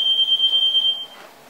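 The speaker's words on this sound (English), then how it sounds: "Fire alarm." A household smoke alarm in a kitchen sounds a loud, steady high-pitched tone for about a second, then cuts off, leaving faint room noise.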